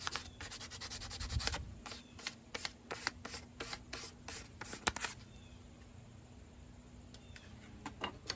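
Wood being sanded by hand, with a run of quick rhythmic rasping strokes close to the mic, fairly quiet and followed by a few sparser scrapes.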